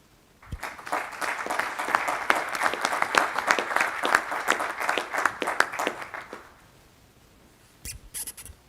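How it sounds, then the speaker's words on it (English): Audience applause in a conference hall at a European military health services congress: a dense, steady burst of clapping lasting about six seconds, then fading to near silence with a few faint handling noises. "I hope you hear the applause coming from here"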